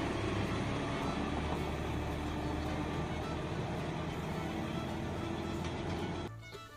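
A farm tractor loaded with fourteen bags of fertilizer up front and a log leveling drag hitched behind pulls away through a Korean village on a fresh morning, its engine rumbling loudly and steadily before easing off near the end.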